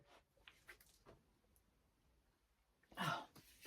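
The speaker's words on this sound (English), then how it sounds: "excuse the sneeze" A single sharp sneeze bursts out near the end after quiet rustling and faint breathing, loud and close.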